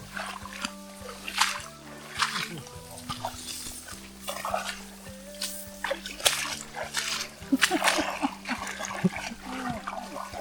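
Hikers splash and slosh through knee-deep water on a wet forest trail, with irregular splashes and wading steps close by, under a steady low hum, while people talk in between.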